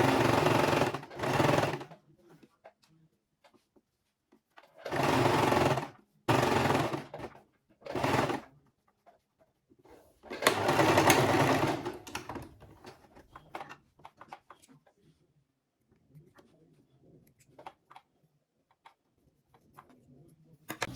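A sewing machine stitches fleece fabric for a baby beanie in three loud, close bursts of rapid mechanical whirring, separated by quiet pauses.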